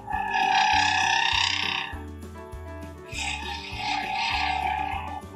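A woodturning tool's bevel rubbing across a textured wooden holiday gnome spinning on a lathe: a buzzing, rasping drone over a low rhythmic thumping, fading once in the middle before returning, close and steady, no talk.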